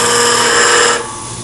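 A wood lathe scraper cuts a segmented turned vessel with a loud, steady hissing whine that drops to a quieter level about two-thirds of the way through.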